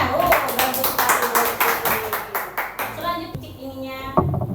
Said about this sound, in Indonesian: Oke, tepuk tangan, tepuk tangan.